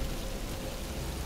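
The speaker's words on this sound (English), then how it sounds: "But it's starting to rain." Rain falls in Batman: Arkham Asylum as a brief, dense hiss of steady drops with no break across the short span.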